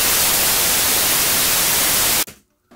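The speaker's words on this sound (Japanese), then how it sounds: "はい、そうするとね、純粋なノイズのパーツができました。" Pure white noise generated in Adobe Audition: a steady, loud broadband hiss that holds evenly for just over two seconds, then cuts off abruptly into near silence.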